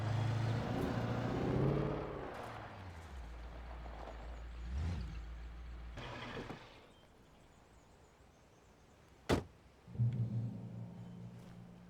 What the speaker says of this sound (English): Come on, give it some gas, Alan.